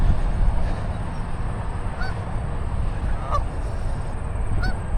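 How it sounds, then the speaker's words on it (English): Geese honk a few times at moderate distance over steady outdoor ambient noise, the calls brief and spaced apart while the birds stand in the middle of a road. "Walking right down the middle of the road to get you guys a picture of some geese here."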